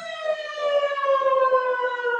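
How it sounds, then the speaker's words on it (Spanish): A civil defense siren wails at the Navojoa municipal market, a loud, steady tone with strong overtones that slowly falls in pitch across the whole stretch, heard alone. "así suena la sirena aquí en la Perla del Mayo"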